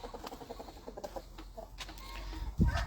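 Chickens cluck in quick, soft bursts on a small farm with a rooster among them, the calls fairly close and scattered over a quiet background, with a louder low thump near the end.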